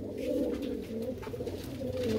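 A pigeon coos softly and continuously in a low, rolling murmur, fairly close, with no voices over it.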